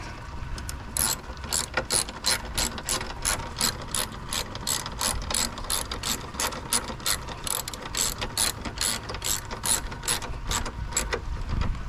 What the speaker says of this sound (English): So I got my wrench. Now let's tighten this guy up back here.